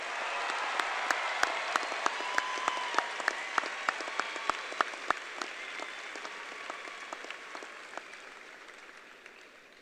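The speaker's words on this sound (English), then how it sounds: "Let's give them another round of applause." A high school graduation audience breaks into sustained applause, a dense wash of clapping with a few sharp, close individual claps standing out early before it gradually thins and fades.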